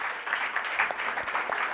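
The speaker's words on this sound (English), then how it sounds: "Give them a big round of applause, please." Audience applause at a motivational lecture: a brief, moderately loud run of mixed hand claps from a room full of people, fairly even in texture.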